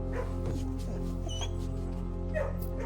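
Dogs in a kennel in the video game Blue Prince give a few faint yips and whimpers over a steady low hum and soft game music.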